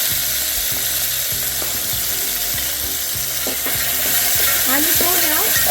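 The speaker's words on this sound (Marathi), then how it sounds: "लसूण मिरची बरोबर थोडं एक मिनिटभर भाजून घ्यायचं" Chopped tomato with garlic and green chilli fries in a hot tempering for lentil varan, giving a loud steady sizzle, with regular spatula scrapes ticking through it and a brief squeaky scrape toward the end.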